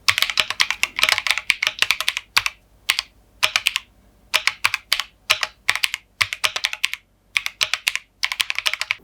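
Close mechanical keystrokes from a Keychron Q1 Pro with Gateron beer switches on the letters and stock Keychron banana switches on the other keys, typed in quick rhythmic bursts broken by brief gaps, with no voice present.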